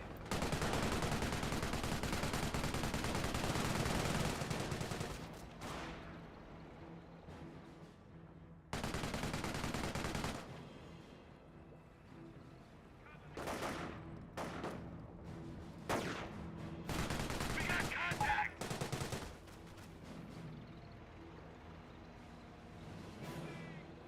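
Machine gun bursts from an MMG carrier in the WWII strategy game Company of Heroes, loud repeated rattling volleys starting and stopping amid other battlefield gunfire and explosions, with no voices.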